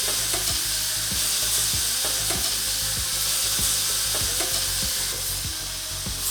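Marinated chicken and beef fajita meat sizzles on a hot grill after being flipped, a loud continuous sizzle with a regular series of sharp clicks and taps throughout, no voices.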